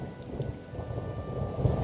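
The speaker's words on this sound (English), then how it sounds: "How often are we going to see a tempest like this in one lifetime?" Rain and thunder from a storm at sea in Elder Scrolls Online, Summerset chapter, a steady soft wash of rainfall with low rolling rumbles underneath, fairly quiet and continuous.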